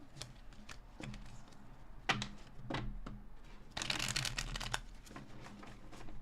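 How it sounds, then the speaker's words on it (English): Tarot cards shuffled in quick riffling bursts, crisp papery flutters repeating a few times at close range with brief pauses between, no talking. "Last shuffle."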